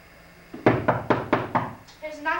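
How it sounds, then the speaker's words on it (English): Five loud, evenly spaced knocks on a door sound as a stage effect during a 1998 high school production of Macbeth, followed by a voice beginning to speak, all in a slightly echoing auditorium. "I hear knocking at the south entry."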